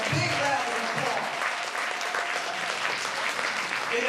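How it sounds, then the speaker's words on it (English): An audience at an African cinema day event in the Bronx, New York, applauds in a sustained, full round of clapping close by, steady and loud from start to finish. "let's give them a big round of applause"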